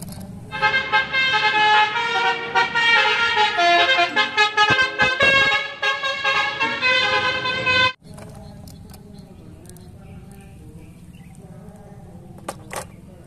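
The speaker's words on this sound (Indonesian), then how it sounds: "Wow, lihat, ada bus telolet basuri." Indonesian telolet bus horn from a toy bus plays a loud, melodic multi-tone honking tune for about eight seconds, then cuts to quieter background noise with faint clicks.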